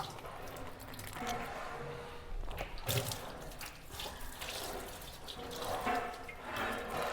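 Six liters of sunflower oil poured into a large pot over a wood-fired stove for a 50 kg batch of ghee rice, a steady liquid splashing and gurgling alone at moderate level.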